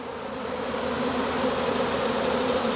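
A honey bee swarm hums as a loud, dense, continuous drone from many wings, steady and close for the whole stretch, with no voices.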